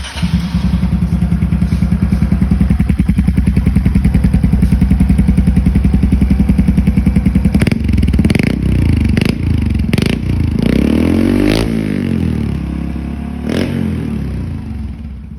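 A Honda Dax motorcycle fitted with aftermarket parts starts up and idles loudly with a steady throbbing beat, then the engine is blipped through a series of sharp revs rising and falling in the second half.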